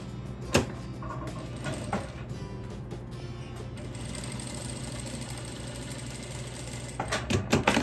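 A sewing machine runs a long continuous patchwork seam with fabric pieces placed right sides together, its steady motor hum and rapid needle rattle preceded by a few clicks and thumps, ending with handling knocks.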